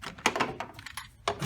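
Small metal bolts on a 2004 six-cylinder Jeep Rubicon water pump fan shroud, with several sharp clinks and taps scattered irregularly, close and fairly faint.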